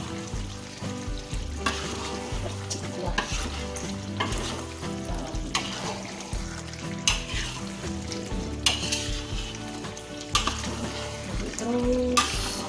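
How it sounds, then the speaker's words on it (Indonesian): Chicken and jackfruit rendang is stirred in hot, bubbling sauce in a Minang-style kitchen, with a steady close sizzle and repeated scraping strokes of a utensil against the pot, and no talking. "aduk-aduk terus sampai kepecek sama kuahnya yang panas"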